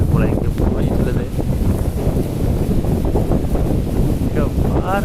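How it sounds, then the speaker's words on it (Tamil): Strong cyclonic wind with light rain in Mayiladuthurai district, roaring and buffeting the microphone in a loud, continuous rush with gusty swells throughout, close and unbroken. "அவ்வளோ சூறாவளி காற்று தண்ணி அதெல்லாம் மழை லைட்டாக தூரிக்கிட்டு இருக்கு"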